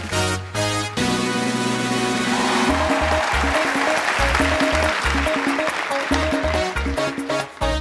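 Loud studio audience applause on The Kapil Sharma Show greets a guest, dense and steady beneath a driving music track that kicks in partway through.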